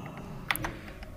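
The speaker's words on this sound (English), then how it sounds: "Sorry if my keyboard's loud, by the way." Computer keyboard keys click in a short, irregular burst of typing during a World of Warcraft session, close and moderately loud against a quiet background.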